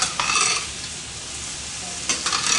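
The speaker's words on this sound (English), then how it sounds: "so now I'm just going to mix it all together and kind of stir it around until everything begins to get soft" Canned potatoes frying and being stirred in a stainless steel pot, a steady close sizzle with two bursts of scraping stir strokes at the start and end.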